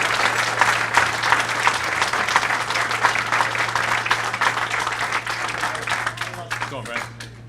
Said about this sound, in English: And so let's have a big round of applause.